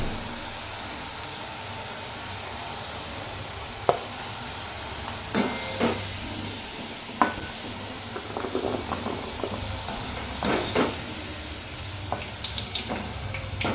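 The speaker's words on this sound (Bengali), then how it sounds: "আর ওই তেলে আমি পনিরগুলোকে অল্প ফ্লেম করে ভেজে নেব" Paneer pieces fry in oil in a pan over a low flame, giving a steady soft sizzle and hiss with occasional sharp pops and spatters, close up and with no talking.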